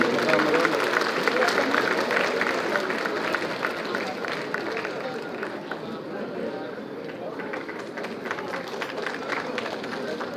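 A Bengaluru Constitution Day inauguration audience claps steadily to welcome the Chief Minister, a dense, sustained applause with crowd murmur that holds level throughout and fades slightly toward the middle.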